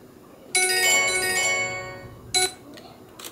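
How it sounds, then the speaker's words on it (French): Phone timer app alarm marking the end of a long camera exposure, a bright chiming ring that fades over a second, followed by two shorter chimes, moderately loud over quiet background. "l'application va sonner et me donnera le signal pour arrêter l'exposition"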